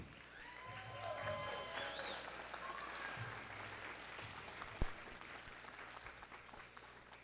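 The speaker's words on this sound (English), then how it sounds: "If you're a grandparent of one of our students, will you stand and take a round of applause?" An audience at a high school band and choir winter concert applauds the students' grandparents, a soft, distant spread of clapping with scattered voices and a high cheer or whistle over it.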